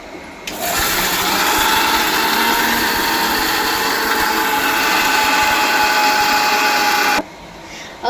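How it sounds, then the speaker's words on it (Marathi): Mixer grinder grinding dry fruits and cardamom for modak filling, switching on abruptly into a loud, steady whirring motor drone that holds for about seven seconds before cutting off, close by, with no talk. "इथे आपण मिक्सरसुद्धा करतो आहे ड्रायफ्रूट्स आणि थोडीशी इलायची पण टाकली आहे"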